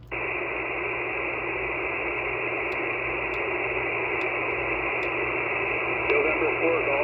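Amateur radio receiver carrying a steady band of static and hiss across the whole stretch, with a faint voice calling CQ buried in the noise and a few short clicks near the end.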